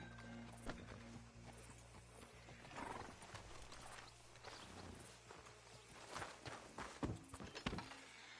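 Horse hooves in Red Dead Redemption 2, quiet clip-clopping steps in an irregular walking rhythm, with an occasional snort and faint background ambience.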